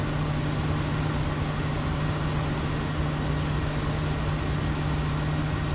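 Cabin air conditioning in a Kodiak aircraft within Microsoft Flight Simulator gives a steady, faint broadband hiss of blowing air over a constant low hum, unchanging throughout and with no voices.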